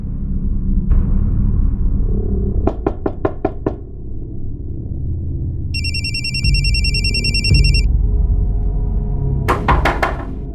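A telephone rings with bursts of a bright electronic ringtone, set among sharp knocking taps over a steady low rumble in a quiet room.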